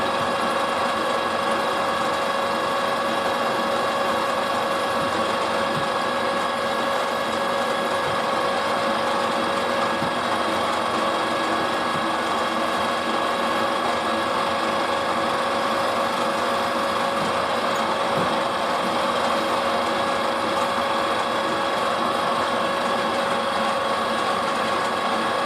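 A drill bores a hole through a BSA bush during a bush-to-bearing conversion, giving a steady, unbroken mechanical whine at constant level for the whole stretch.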